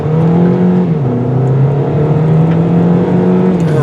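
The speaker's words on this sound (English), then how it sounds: "So let's see how this thing accelerates in the fully electric mode." A 2022 Kia Niro hybrid accelerating in fully electric mode gives a steady, loud whir with a rising and dipping tonal hum and continuous road noise, no voices.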